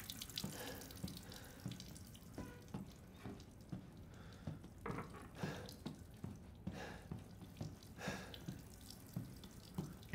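A tap runs in a sink in the Resident Evil Village game, a steady splashing stream with soft rhythmic drips and gurgles, close and moderately quiet, no voices.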